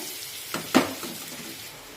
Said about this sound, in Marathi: आता एखाद मिनिट आले लसूण पेस्ट कांद्यामध्ये छानपैकी परतून घेतलेली आहे